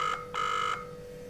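A kids' smartwatch (9Tong Q90) rings on an outgoing call: a steady electronic tone sounds twice, a short burst then a longer one, over a faint constant hum.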